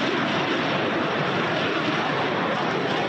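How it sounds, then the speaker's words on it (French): German Luftwaffe Eurofighter fighter jets fly overhead during the Blue Flag 2017 air exercise in Israel, a continuous, loud broadband roar holding steady for about three seconds with no other sounds. "les avions de l'armée de l'air allemande, la fameuse Luftwaffe, survolent le ciel israélien."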